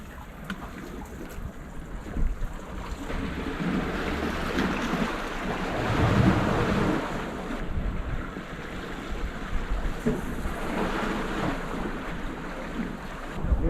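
Strong wind gusts buffet the microphone with a continuous roar of waves on the East Sea coast, a dense, loud rush of surf and wind noise that swells and eases without any talking.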